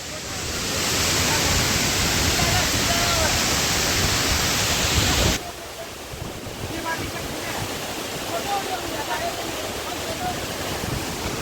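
Water at Sathodi Falls roars as a dense, steady rush of broadband noise, loud and close at first and then softer and more distant after a sudden drop partway through, with faint voices underneath.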